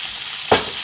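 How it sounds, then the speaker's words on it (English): Dry bean curd dropped into a hot wok at medium to medium-high heat, giving a sudden burst of loud sizzling that quickly settles into a steady hiss. "All right, got that sizzling."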